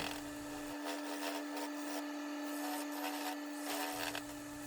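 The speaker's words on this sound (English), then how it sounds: "Remaining with the skew chisel here and starting the curve near the foot." A skew chisel cuts a wooden fruit bowl spinning on a lathe, shaping the curve near the foot, giving a steady close scraping rasp over the constant hum of the machine.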